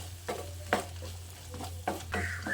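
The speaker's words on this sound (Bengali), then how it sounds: "এবার চিনিটা দিয়ে আবারও কিছুক্ষণ মিশিয়ে নিতে হবে।" Sugar being stirred into a tomato mixture in a pan, a few soft scraping strokes of the spoon sounding close over a low steady hum, with no talking.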